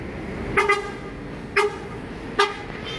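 A Sumatran bus in a convoy sounds its horn three times in short double toots spaced about a second apart, clear and fairly close over a steady rumble of road noise.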